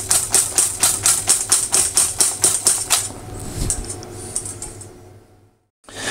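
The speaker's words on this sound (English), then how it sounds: "you want to beat it for about at least 4 or 5 minutes when you're doing a frittata to really get some air into the eggs" Eggs beaten hard for a frittata, a fast, regular series of sharp clicking taps from a whisk or fork against a bowl, close and loud, that slows and stops before a brief silence.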